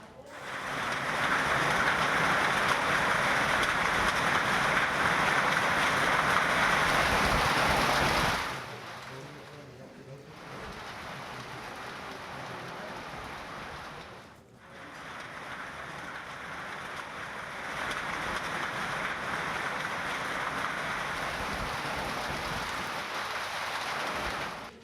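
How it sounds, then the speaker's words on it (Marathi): Unseasonal rain with hail falling in Niphad, Maharashtra, a dense steady hiss of rain and pellets striking surfaces that briefly drops away twice before resuming, fairly close and continuous. "निफाडमध्ये गारपिटीसह अवकाळी पाऊस झाला"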